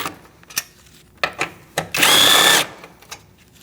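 A power ratchet spins for about half a second on a 10mm bolt of a Mercedes-Benz C300 radiator, loud and close, surrounded by quiet clicks and handling knocks.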